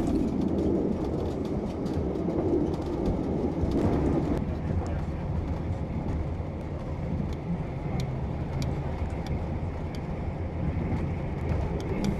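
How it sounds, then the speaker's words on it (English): Train wheels rolling on rails during a TranzAlpine rail journey, a continuous loud rumble and clatter with faint rhythmic clicks throughout, heard from inside the carriage. "You can tell from the change in the sound of the wheels on the tracks"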